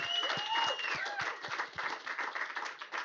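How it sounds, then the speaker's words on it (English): A crowd at a women's sports event at Cannes Lions applauds with steady clapping for about three seconds, with a few cheers and whoops rising over it. "Can we get a round of applause?"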